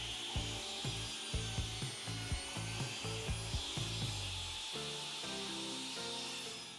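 Hand sawing through a wooden workpiece for the head of a DIY dowel jig, with steady rhythmic back-and-forth strokes, close and fairly quiet, with no talk.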